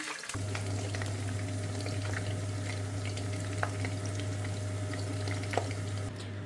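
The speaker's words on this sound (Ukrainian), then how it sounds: "І на сковорідку наш чебурек на розігріту у певну кількість рослинної олії. Смажимо." Chebureks sizzle steadily in hot vegetable oil in a frying pan, a constant crackling hiss with occasional pops, close up over a low electrical hum.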